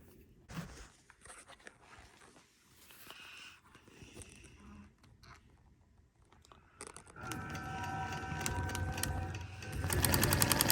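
Sewing machine stitching a rolled cuff Christmas stocking, starting quietly with rustling fabric handling and building into a steady, louder machine whir over the last few seconds.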